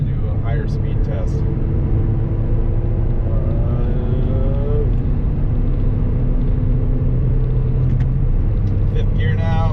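A 2010 Kia Forte in fifth gear on a bumpy road, its steady engine and tyre rumble loud and continuous from inside the cabin, with a voice talking over it now and then.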